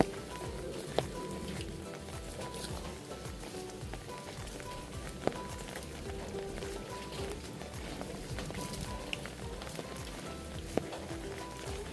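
Rain falls steadily during a storm outdoors where cattle graze. A soft, even patter continues throughout, with a few faint sharp drips standing out.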